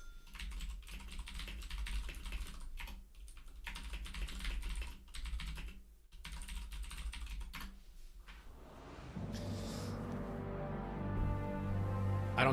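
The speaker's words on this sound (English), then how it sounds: "I didn't finish typing it fast enough." Someone types rapidly on a computer keyboard while playing a game, producing a dense, steady patter of close keystrokes. The clatter continues for several seconds, then gives way to a softer, more tonal background near the end.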